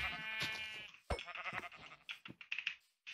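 Sheep bleats from Minecraft, a few wavering calls with game clicks and a short pause between them.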